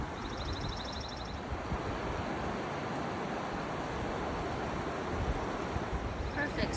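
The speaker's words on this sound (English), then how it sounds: "This is Tuolumne Creek, I believe. Right at the end of the road past Lambert Dome." Tuolumne Creek flows past Lambert Dome at the end of the road, a steady broadband rush of water that fills the scene at an even, moderately loud level, with faint chirps near the start.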